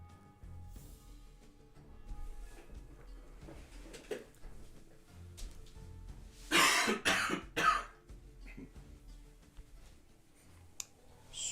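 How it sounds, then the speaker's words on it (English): A short burst of harsh coughing, two or three rough coughs close together, loud and near, with quiet room noise before and after. "Sorry about the cough."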